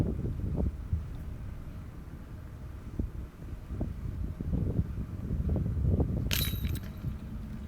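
Gusty wind buffets the microphone in low rumbling bursts, with a brief metallic clink near the end.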